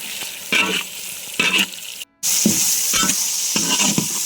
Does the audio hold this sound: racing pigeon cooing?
no